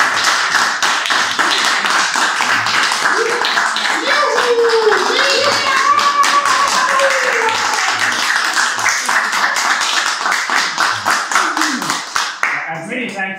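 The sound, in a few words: audience applause for Kaja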